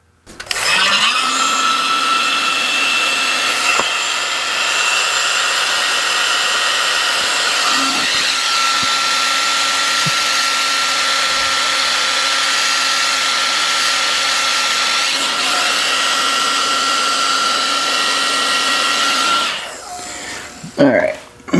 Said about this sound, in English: Now I can heat this and shrink that tube down to get a good seal.